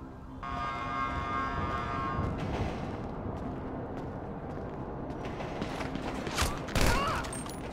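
Gunfire in the video game GTA V: bursts of shots and impacts over a noisy game background, with a tonal whine early on and a louder blast near the end.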